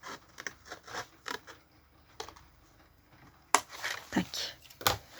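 Scissors snip through paper while a small gift box is made, with a few short, crisp cuts and soft rustles spread between pauses, close by.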